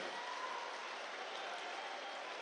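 A large crowd at a Madhya Pradesh political rally in Betul applauds Prime Minister Modi, a dense, steady wash of distant clapping that holds evenly for the whole stretch without clear individual claps.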